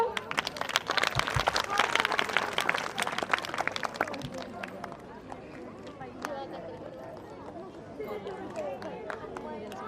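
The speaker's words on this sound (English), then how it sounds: "Please, a big round of applause for our first anchors." An audience at a school annual function claps loudly at first, then the applause thins and fades while voices and crowd chatter continue underneath.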